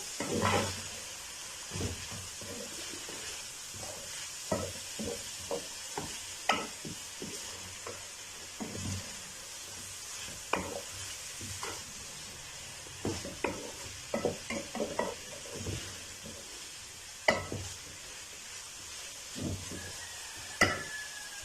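Vegetables and capsicum stir-frying in a pan for chicken chow mein, a soft continuous sizzle broken by frequent sharp clicks and scrapes of a spatula, close and quiet with no talking.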